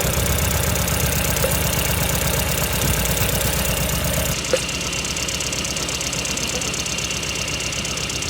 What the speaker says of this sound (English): we have cylinder 3 and 4 misfiring